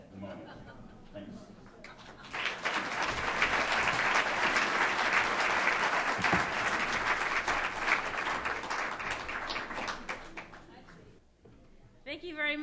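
An audience at a 2014 awards event applauds keynote speaker KC Fowler: a full, loud burst of clapping swells after a few seconds, holds steadily, then tapers off, with talking before and after it.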